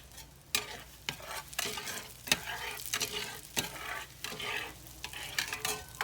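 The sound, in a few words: whole white onion frying in a pan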